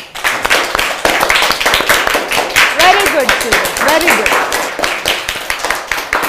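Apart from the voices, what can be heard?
schoolchildren clapping in class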